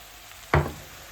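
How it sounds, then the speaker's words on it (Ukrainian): A brief loud burst of sizzling as eggplant and peppers hit a hot pan with onions, then a softer, steady frying hiss fading out. "Все перемішуємо і смажимо на середньому вогні біля 10 хвилин."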